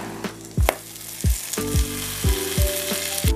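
Egg-soaked slices of diner-style French toast dropped into a hot pan, hissing loudly over a steady sizzle, with several sharp clatters and bursts of frying as pieces land and settle.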